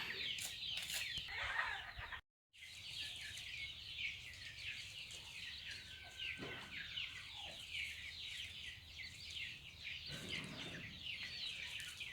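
Native country chickens cluck and chirp steadily in a coconut grove surrounded by groundnut fields, a dense continuous flock chatter with a brief dropout near two seconds and occasional louder calls.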